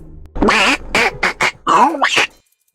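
A human voice imitates a duck's quack in a Donald Duck style, a rapid run of several loud, raspy, squawking syllables up close, then silence.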